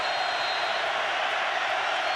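Football stadium crowd during Michigan at Oregon, a broad, steady roar of many distant voices cheering, sustained and even without distinct claps or words.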